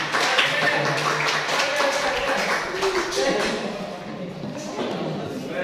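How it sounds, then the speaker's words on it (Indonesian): Applause from a university civic education class for three students, a dense patter of many hands clapping under steady talk that continues throughout. "aplaus buat mereka bertiga"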